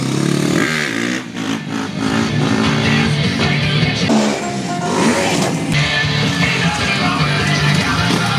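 A car driving past during a tire demonstration, a loud continuous engine and rolling roar with revving swells and clatter, staying close throughout with no talk.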